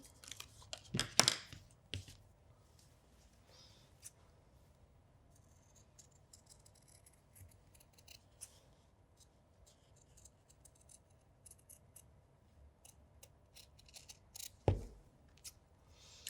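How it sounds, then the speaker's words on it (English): Scissors snipping through fabric along a seam allowance while cutting out a sewn toy's arm, a few close, sharp cuts at the start and near the end with quiet rustling of cloth between. "cut that seam allowance as accurately as you can and as parallel as you can to that join line"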